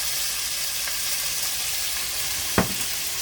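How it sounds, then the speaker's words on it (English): Finely chopped bacon sizzles and fries steadily in a pan, with an even hiss throughout and one brief louder crackle near the end. "So chopped bacon. I got about 4 or 5 bacons chopped up very finely. And we're going to get them in there and let them start cooking."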